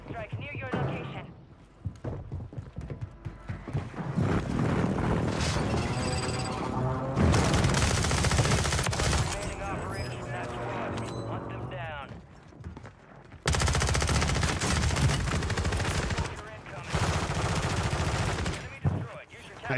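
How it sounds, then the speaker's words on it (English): An airstrike in a Call of Duty match: loud bursts of rapid machine-gun fire and booming explosions in dense volleys with short pauses, while a player talks over parts of the action. "Hostile airstrike near your location."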